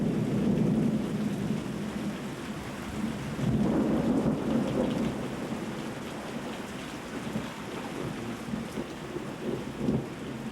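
Thunder rolls and rumbles through a thunderstorm over steady rain, with louder low booms early on and a continuous wash of rainfall throughout, no voices.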